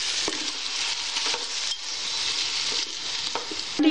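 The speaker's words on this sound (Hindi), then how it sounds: "देखिए मैंने इसमें अदरक लहसुन का पेस्ट शामिल किया है 1 टेबल स्पून। इसको मैं हल्का सा फ्राई करूंगी।" A tablespoon of ginger garlic paste frying in a pan for a tomato gravy gives a steady close sizzle with stirring scrapes, ending in a short metallic clink.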